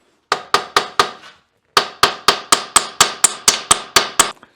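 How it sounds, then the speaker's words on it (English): Hammer blows strike a Porsche 911 strut while Bilstein B16 coilovers are fitted: four sharp metallic hits, a brief pause, then nine more in quick even rhythm, loud and close. "If I hammer it, is it gonna break loose?"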